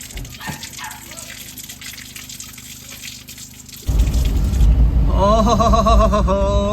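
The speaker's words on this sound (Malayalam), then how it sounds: "മലയിൽ നിന്ന് വരുന്ന നല്ല ശുദ്ധമായ വെള്ളം ഇവിടെ കിട്ടും കേട്ടോ" Pure mountain spring water at a roadside near the Nepal entrance gate on the Mirik to Darjeeling route, a quiet stretch that suddenly gives way to a loud, rushing gush of flowing water, with a voice talking over it.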